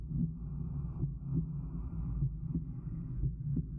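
Muffled, low heartbeat effect from the video game Take On Mars, thumping in a steady repeating rhythm about once every second or so over a dull hum, heard alone without talk.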